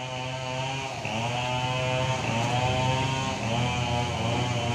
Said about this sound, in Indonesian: di belakang saya terdengar suara gergaji mesin ya, atau senso yang menderu-deru ini ya